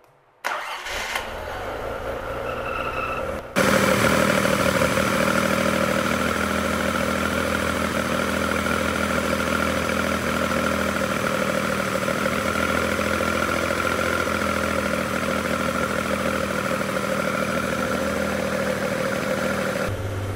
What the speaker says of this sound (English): So we're warming the engine up now.